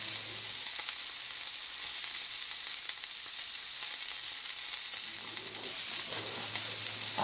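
Meat sizzles on a grill at a Korean barbecue restaurant, a steady close frying hiss that runs unbroken throughout with no talk over it.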